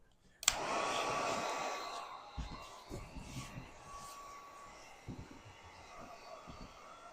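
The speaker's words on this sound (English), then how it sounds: "we're all done using the heat gun to dry out the limbs again here" A heat gun blows steadily on the limbs of a hickory self-bow, a loud continuous airy roar starting abruptly and holding near the microphone, with scattered low bumps and handling noise underneath.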